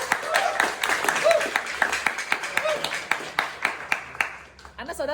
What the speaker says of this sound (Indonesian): kita beri aplaus buat Pak Fahmi ya